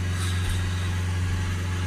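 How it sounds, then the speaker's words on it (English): A Renault Trafic van engine runs steadily at slightly raised revs, a close, constant droning hum with no change in pitch and no talking. "A little bit of revs on it just for a couple of minutes until that goes down"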